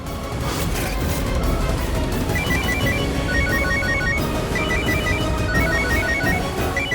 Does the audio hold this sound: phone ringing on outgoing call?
yes